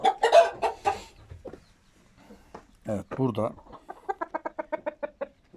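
Chickens cluck repeatedly nearby, a steady run of short clucks, with a person speaking briefly over the birds.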